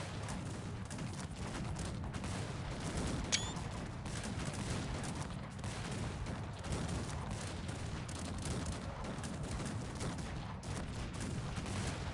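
Cannon fire in the strategy game Cossacks 3 amid a steady, unbroken battle din of booms and musket volleys, fairly quiet and continuous throughout.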